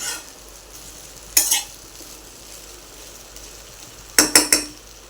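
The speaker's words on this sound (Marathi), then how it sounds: "पाच मिनिटं शिजत असताना मध्ये मध्ये आपण असं हलवून घेऊया" Okra frying in a spiced masala in a pan gets stirred in two short bursts of scraping, a single stroke and then three quick ones, under a low steady sizzle.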